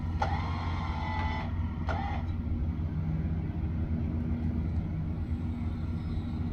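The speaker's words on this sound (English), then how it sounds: "straighten your wheels and slowly back up" A car slowly backing up while stuck in desert sand gives a steady, low engine rumble, with a couple of brief tonal beeps early on and no talking.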